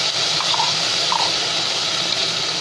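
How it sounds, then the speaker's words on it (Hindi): Soaked toor dal pouring into a pan, a steady wet gushing rush of grains and water heard up close on its own. "अब इस पैन के अंदर हम लोग डालेंगे तुअर की दाल"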